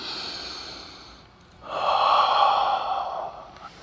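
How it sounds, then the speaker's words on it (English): Big, deep breaths taken during a shoulder stretch against a wall, a long audible inhale or exhale swelling up near the mic after a quieter breathy stretch, with no talking. "then repeat 2 big breaths"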